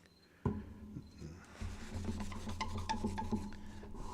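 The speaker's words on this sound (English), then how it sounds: "So that's what you're seeing when I'm polishing." A polishing tool rasps and rubs across wet gray granite carved with Bible lettering, starting with a sharp knock and settling into a steady, close grinding hum with scattered ticks.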